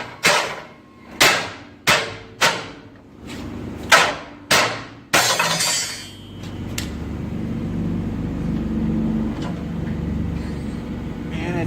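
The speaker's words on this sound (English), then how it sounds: "then we're just gonna tap it out with a hammer" Sharp hammer blows knock a car's rear suspension coil spring loose: seven loud metallic strikes in an uneven rhythm, each ringing briefly, then a clatter and a lower shifting rumble.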